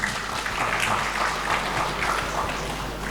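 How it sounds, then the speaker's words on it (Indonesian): A crowd applauds steadily at a public launch event, a dense patter of clapping from many hands filling the room at moderate loudness. "Tepuk tangan untuk kita semua"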